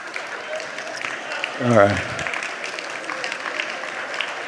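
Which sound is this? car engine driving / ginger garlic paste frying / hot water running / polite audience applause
polite audience applause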